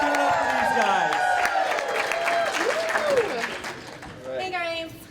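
Live audience at a podcast taping in Toronto applauding and cheering loudly and steadily, with whoops and voices rising over the clapping and a speaking voice heard near the end.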